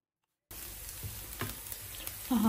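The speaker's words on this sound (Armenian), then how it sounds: "Մի սոխը տապակվում է" Onion frying in a pan. After a moment of silence a steady sizzle starts and runs on, close by, with a few soft stirring knocks and no voices.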